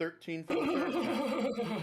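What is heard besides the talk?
horse neighing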